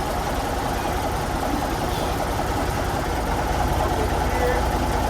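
A Paystar truck engine idles at about 600 rpm, a steady low rumble with a continuous broadband drone that holds even and loud from start to finish, without revving.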